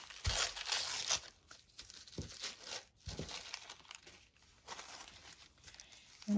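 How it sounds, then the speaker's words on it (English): Thin tissue paper printed with sunflowers is torn by hand for a junk journal page, several crisp rips and crinkles in quick bursts, close and fairly quiet, with no talking. "Let's just tear some of this off here."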